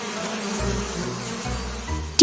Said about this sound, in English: Do you hear that? Buzz, buzz. It's a bee.